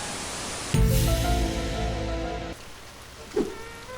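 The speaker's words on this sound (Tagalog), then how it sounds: "Hanggang sa lumakas yung patak ng ulan na parang tunog ng TV na walang signal." Heavy rain pounds steadily on a thin roof, a dense hiss like television static that swells suddenly to a roar, then eases slightly, with a brief knock near the end.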